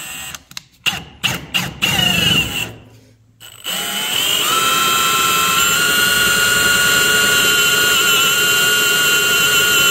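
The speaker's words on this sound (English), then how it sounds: "And I'm drilling them and screwing them at that time so that we know they're flat as we go back." Power drill driving into trailer deck boards, starting with a few short bursts and pauses, then a loud steady whine of the motor running continuously close by.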